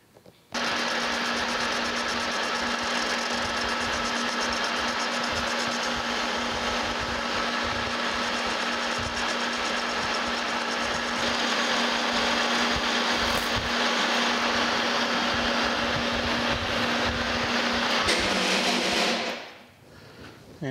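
A lathe turning a new valve stem for a steam locomotive stoker engine runs as a steady, loud mechanical whine with a constant hum, cutting continuously before spinning down abruptly near the end.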